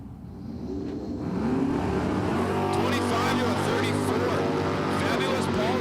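Camaro and Duster drag cars racing down a dragstrip, loud engine roar building over the first seconds and holding steady at full power, with an announcer's voice faintly under it.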